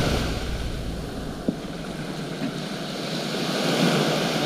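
Sea waves wash steadily onto the shore at a kayak landing in Malaysia, a continuous near surf wash with wind noise, one brief knock partway through, and no talking.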